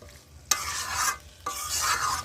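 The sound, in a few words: chicken sizzling while stirred and fried in pan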